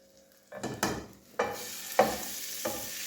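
Garlic and ginger sizzle in hot oil for a red lentil and potato daal, with bursts of frying crackle and a few stirring scrapes against the pan, close and fairly loud.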